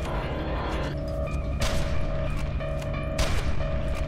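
Gunfire in the video game F.E.A.R. 2: Project Origin, a few booming shots and bursts over a steady droning hum of game ambience, loud and close with no voices.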